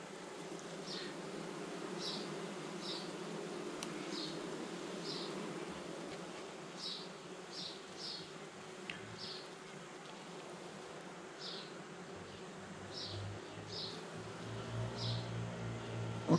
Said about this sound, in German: ob man jetzt in ein Bienenvolk reinguckt oder nicht